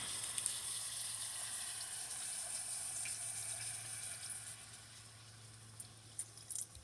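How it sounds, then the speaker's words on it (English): Water pours steadily into a cooking pot for pot roast outdoors in the wilderness, a continuous soft gushing stream, fairly faint and even throughout, with no talking. "add some water again"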